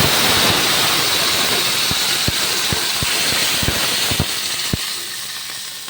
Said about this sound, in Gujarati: એને થોડુંક એને ઉકળવા દઈશું.